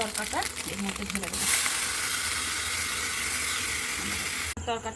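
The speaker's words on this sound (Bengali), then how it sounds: "ডিমটা একটু ভেজে নেবো" An egg fries in a pan with a steady, close sizzling hiss that runs for several seconds, with brief voice-like sounds at the start and a short clatter near the end.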